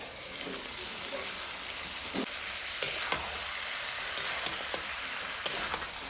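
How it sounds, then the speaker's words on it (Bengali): Mutton (goat meat) sizzles steadily as it is sautéed under a lid over low gas heat, a continuous frying hiss broken by occasional sharp pops and spatters. "ঢাকা দিয়ে দিয়ে যে কষাচ্ছি আর এই যখন হালকা হালকা জলও গলছে জল না তেল"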